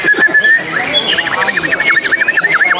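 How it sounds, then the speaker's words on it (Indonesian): A pet songbird chirps and trills in rapid repeated whistled notes, close and loud, with people talking over it. "Keren ini burungnya."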